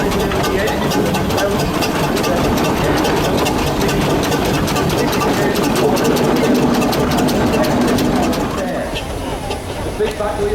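A heavy steam traction engine chugs and rumbles steadily throughout at a steam rally, dense mechanical noise with faint chirping on top, easing slightly near the end.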